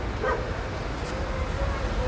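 Several dogs bark and yip in a noisy outdoor setting, one larger black dog among them, with the barks mixed into steady background noise and nearby human voices.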